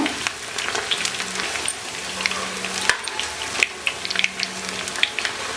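Garlic raw banana kebabs fry steadily in a pan over a medium flame, giving a continuous close sizzle with small crackles and occasional louder pops, with no talk over it.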